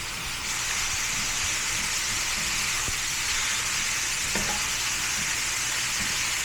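Meat browning toward a crispy finish in a pan for a simple carnivore lunch, sizzling and frying steadily and close up, with a couple of faint utensil taps and no talking.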